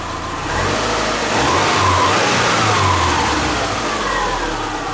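A Subaru Forester engine newly installed and running, a loud continuous mechanical drone with revs rising and falling as it warms up, close by with no talking.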